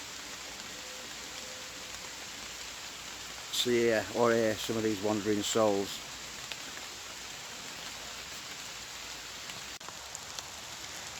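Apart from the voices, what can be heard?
rain falling at a wild campsite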